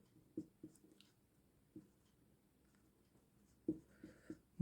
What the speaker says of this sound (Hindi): तो लिखेंगे हम यहाँ पे